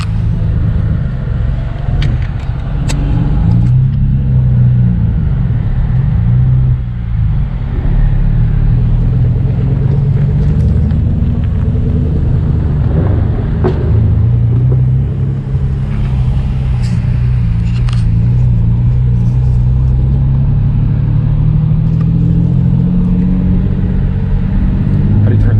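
A turbocharged Nissan 350Z, a stock motor running 7.5 pounds of boost, drives a canyon road with a loud, steady in-cabin engine rumble and rushing air that rises and falls with throttle, while occupants talk over it.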